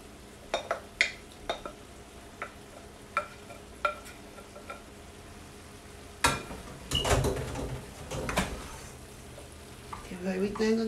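Sautéed vegetables stirred in a hot pan for cheeseburger subs: a string of sharp utensil scrapes and taps against the pan, then louder stirring with sizzling frying and clanks, and brief talk near the end.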